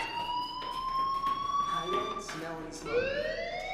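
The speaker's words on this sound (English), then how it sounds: "do you hear that fire alarm?" A fire alarm wails in the video game Life Is Strange, a rising and falling electronic siren tone ringing steadily and fairly loud, briefly interrupted by a short voice.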